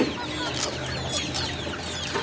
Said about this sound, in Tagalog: Itong mga babaeng mga manok dito, ito yung mga panibago naman nating hens.